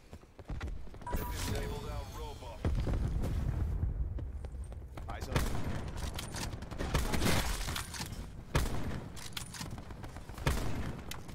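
Scattered Call of Duty gunfire, sharp single shots and short bursts amid busy in-game noise, fairly loud and irregular throughout.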